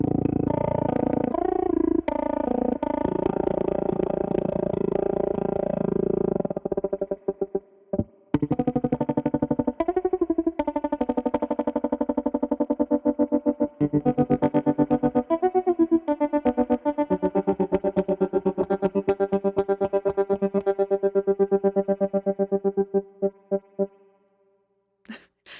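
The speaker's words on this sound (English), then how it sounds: "You can really hear that spring reverb drip" Pigtronix Gloamer analog polyphonic amplitude synthesizer playing loud sustained chords through choppy tremolo with dripping spring reverb, with a brief dropout near the middle and a fade to silence at the end.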